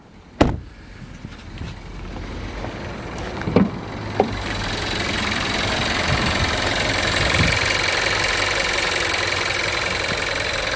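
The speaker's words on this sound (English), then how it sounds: "Let's pop the bonnet while the engine's running." With the bonnet open, a car engine idles in a steady, smooth hum, and a few sharp knocks and clicks come near the start before the running sound swells slightly.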